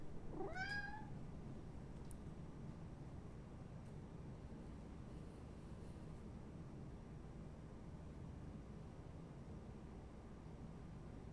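A cat meows once near the start, a short rising and falling cry, then falls silent beneath a steady low hum of background noise that runs throughout.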